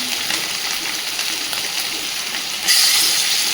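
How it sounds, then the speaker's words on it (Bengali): Three pieces of hilsa fish frying in hot oil, giving a steady dense sizzle that swells louder near the end, with rain falling outside. "তিন পিস মাছ আগে ভেজে নিই।"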